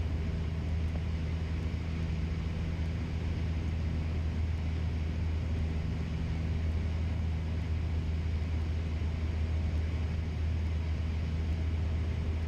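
A Cessna Skyhawk light aircraft engine drones steadily at full power during takeoff on runway 22, a constant loud hum with a firm low tone and broad rushing noise heard from inside the cabin.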